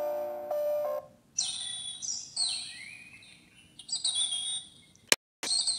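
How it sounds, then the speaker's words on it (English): A kids' cat alarm clock sound machine plays its bird-chirping sound: bright, repeated tweets and warbling calls in short bursts, with a faint tone before them and a sharp click near the end. "This is bird chirping."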